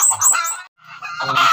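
A chicken, sick and weak, calls out in loud, close, honking squawks, two bursts separated by a short gap of silence. No voices are heard.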